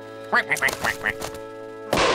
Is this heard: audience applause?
no